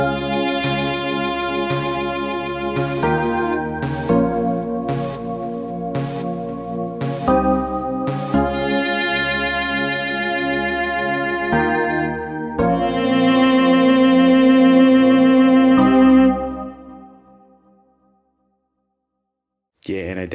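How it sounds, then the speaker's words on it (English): Sakura viola plugin in FL Studio plays a bowed melody in an amapiano beat, with short plucked-style notes giving way to a long held tone that fades to silence near the end. "Next up, I'm going to add this viola from Sakura,"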